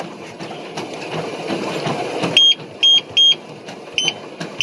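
A series of short electronic beeps from a treadmill, about four or five in quick succession, clear and close over a low mechanical hum.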